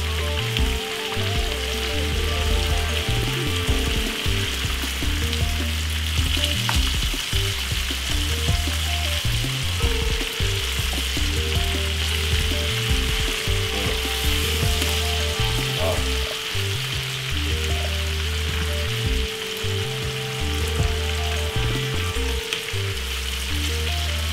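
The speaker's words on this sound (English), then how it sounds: "you want to fry them for roughly about say 5 minutes on each side to get the perfect color" Chicken pieces pan-frying with red onion and garlic give off a steady, close sizzle that runs unbroken throughout, with a low crackling bed beneath it and no voices.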